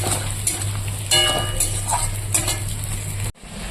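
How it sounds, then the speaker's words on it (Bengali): Potatoes and thick vegetable stems are stirred in a hot pan, with scraping utensil clinks over a soft sizzle, close and fairly loud, ending abruptly. "এবার আলু আর ডাটাগুলো দিয়ে কষিয়ে নেব"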